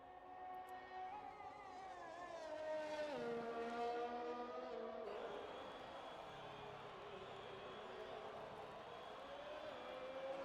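A race car in a racing video game (Mexico GP round of a sim racing league) is pushed hard around the track, its high engine note rising and dropping steadily through gear changes for several seconds.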